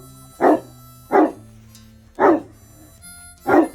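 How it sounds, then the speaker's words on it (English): A dog barks four times at an even pace, each bark loud and close, with short quiet gaps between and no talking over them. "Good dog. That's a good boy."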